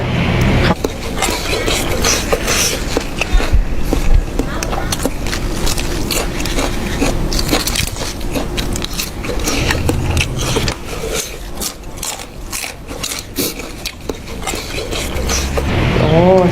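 Someone eats chewy noodles dressed with squeezed lime, producing close, continuous slurping and wet chewing sounds, with brief vocal murmurs in between.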